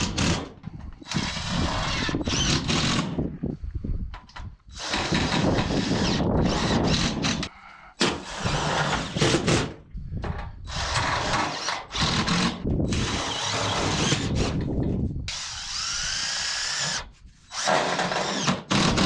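A power drill drives brown screws into pre-started holes in rusty metal roofing on an old barn, in repeated whirring bursts of a few seconds each separated by short pauses.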